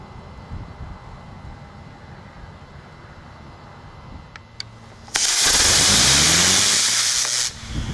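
Four rocket motors fire together on a small 8-ounce rocket disc test vehicle outdoors, a sudden loud roaring hiss that cuts in abruptly over wind noise, holds steady for about two seconds, then stops.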